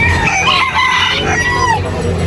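Chickens cluck and a rooster crows at a pet market in Angeles City, loud and close, with a busy crowd murmur underneath.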